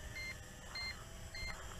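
A Snaptain drone gives three faint, evenly spaced electronic beeps as it starts its return-to-home flight, quiet and thin above a low background hiss.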